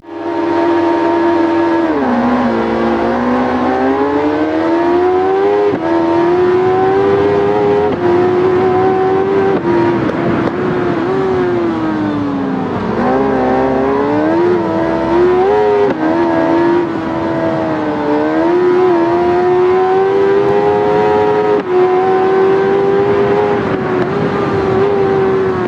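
CERT Racing Suzuki GSX-R 1000 endurance race motorcycle in the RIDE video game, a loud sustained engine drone that rises and falls in pitch through repeated revs and shifts, with no talk over it.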